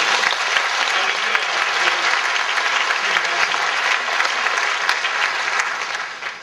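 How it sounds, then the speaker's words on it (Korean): A church congregation applauds in a sustained, dense wave of clapping from many hands that fills the room at an even loudness. It thins slightly at the very end, with no voices over it. "부활의 주님 앞에 다시 한번 감사의 박수."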